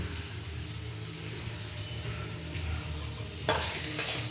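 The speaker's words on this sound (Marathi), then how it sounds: "मस्त मिरच्याची परतून घेतली बघा" Chillies sauté in hot oil with a faint, steady sizzle under soft stirring, and two sharper clinks of a utensil near the end, heard close with no talk.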